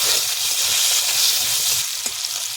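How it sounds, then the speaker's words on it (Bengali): Potatoes fry in hot oil in a kadai with turmeric and salt, giving a steady, close, continuous sizzle and crackle with no voices. "তেল গরম হয়ে গেছে, আলুটা দিয়ে দেবো। একটু হলুদ দেবো, নুন দেবো, লাল করে ভেজে নেব।"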